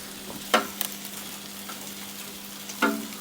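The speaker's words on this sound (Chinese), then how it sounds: "铁板煎马上就好了" Squid fries on a hot iron griddle with oil and scallions, a soft continuous sizzle broken by a few sharp scraping stirs, close and quiet, with no speech.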